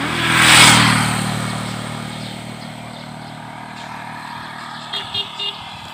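A motorcycle swells past on a roadside lined with lemongrass, loudest in the first second and then fading off into distance, leaving a low traffic hum with a few faint chirps near the end.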